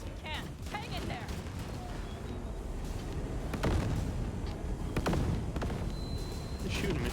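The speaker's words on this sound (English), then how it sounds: "They're shooting me." Gunfire and blasts in the Cyberpunk video game, with a tank in the fight: dense, loud crackling shots and booms over a constant rumbling din, voices mixed in underneath.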